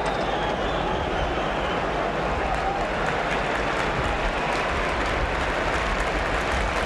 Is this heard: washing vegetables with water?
no